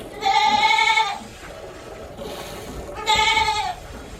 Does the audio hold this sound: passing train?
no